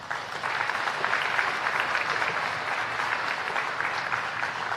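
Steady, dense applause from an audience at a spring college honors ceremony, sustained and fairly loud for the full length with no break.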